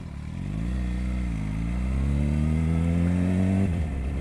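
A Suzuki GSX 750 motorcycle rides through a city neighborhood in Brazil, its engine droning close by and rising in pitch as it accelerates before dropping off sharply near the end.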